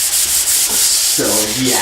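Sanding on a car body panel in an auto body shop, a steady close abrasive rubbing that runs continuously, with a brief spoken phrase near the end.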